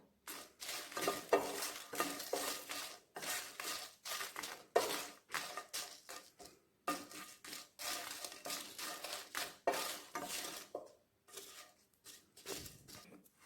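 Kashmiri chillies and peppercorns are stirred in a pan, producing repeated close scraping and rattling strokes in quick bursts with short pauses, a dry clatter of spices against metal.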